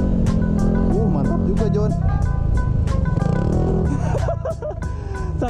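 A Yamaha NMAX scooter with a loud aftermarket exhaust being throttled on a test ride, a rough engine rumble under excited voices and laughter throughout.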